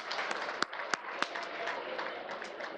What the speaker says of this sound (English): Let's give Janet a big round of applause.